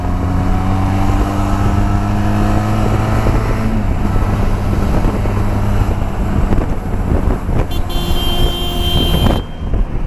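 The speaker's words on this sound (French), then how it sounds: "En première, on débraye, on garde un filet de gaz" A Benelli TRK 502 motorcycle rolls off slowly in first gear on a feathered clutch with light throttle, its steady engine drone close and loud under heavy wind rush.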